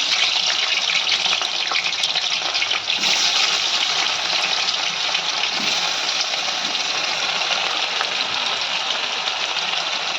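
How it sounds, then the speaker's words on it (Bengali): Paneer pieces frying lightly in oil in a kadai for a vegetarian aloo matar paneer jhol, giving a steady, dense, close sizzle that runs unbroken for the whole stretch with no voices. "এবার পনিরগুলো ভেজে নেবো হালকা করে।"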